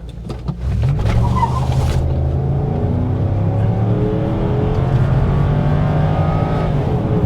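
A V8 Ford Taurus SHO with a misfire, accelerating at full throttle from a standstill: a loud engine roar climbs steadily in pitch through the gear, with tire noise and no talk.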